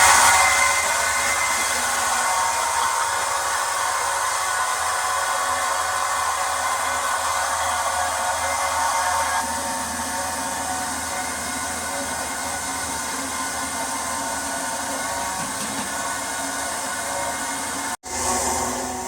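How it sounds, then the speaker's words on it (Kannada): A wet grinder runs loudly as a continuous broadband whir, steady for most of the stretch with a slight shift in tone midway and a brief dip near the end, with no voices. "ರುಬ್ಬುವ ಯಂತ್ರ ಸ್ಟಾರ್ಟ್ ಆಗಿದೆ. ಸೌಂಡು ಜೋರಾಗಿದೆ."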